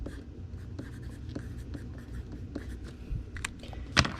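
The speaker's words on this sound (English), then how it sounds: "So write the do not bend on here so it can dry." A marker or pen writes on a flat rate shipping envelope, producing close, soft scratchy strokes with short pauses between them and a sharper tap near the end.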